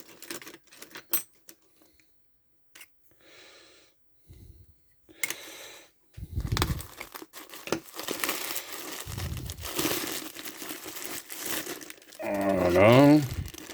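Tightly taped packaging for 20mm figurines is cut open, giving intermittent crinkling, scraping and tearing at close range, with a few quiet pauses and a voice briefly heard near the end.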